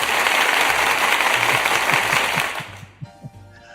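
A canned applause sound effect triggered from a button on a talk show, a loud burst of crowd clapping and cheering that cuts off abruptly after a few seconds, followed by brief studio noises.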